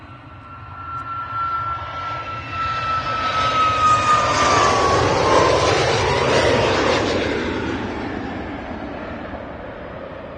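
An EasyJet airliner departing Manchester Airport passes with a loud jet-engine roar, including a thin whine, that builds gradually, peaks mid-pass and then tapers off into the distance.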